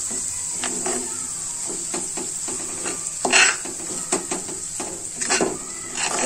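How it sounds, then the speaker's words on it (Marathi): Semolina is roasted in ghee in a pan while a spoon scrapes and stirs it, giving a soft continuous hiss with repeated scraping taps and an occasional louder clink against the pan, close-up and with no talk. "मी हा तुपामध्ये रवा नीट भाजून घेते"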